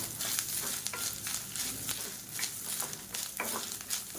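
Chana dal and grated coconut roast in a pan while a spoon stirs them, producing a soft, steady sizzle with repeated light scraping and rustling strokes, quiet and close, with no talking.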